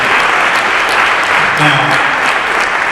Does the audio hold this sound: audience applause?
yes